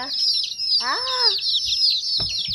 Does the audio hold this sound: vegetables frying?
no